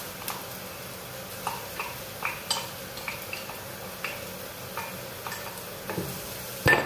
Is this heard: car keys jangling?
no